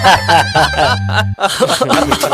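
A rooster calls loudly and close by in a few harsh, squawking bursts, with a brief pause in the middle.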